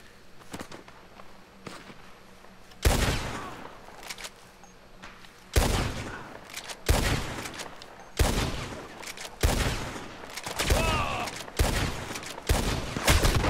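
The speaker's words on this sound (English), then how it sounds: "there's two motherfuckers shooting at me" Enemy players in Red Dead Online shoot from long range, producing sharp, loud gunshots that crack one after another at irregular intervals over a quiet outdoor backdrop.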